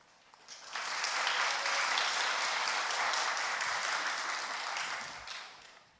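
A church congregation breaks into steady applause, swelling quickly and holding for several seconds before tapering off, fairly distant in a room.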